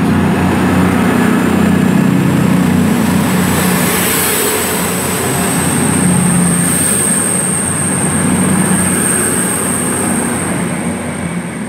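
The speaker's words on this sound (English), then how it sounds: "The other cross-country departure, the delayed 11:59, one stop to Bournemouth, is also departing out." A Class 220 cross-country diesel unit departs Brockenhurst station bound for Bournemouth: continuous loud rolling rumble and engine drone throughout, with a thin high whine above, close to the listener.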